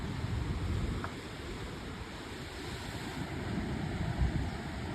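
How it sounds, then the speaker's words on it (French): Rough, churning sea with huge waves off the coast at Dakar, Senegal, heard as a steady, loud roar of surf and wind noise with no distinct breaks, continuous throughout. "Les vagues gigantesques qu'il y a. La mer elle est déchaînée les gars."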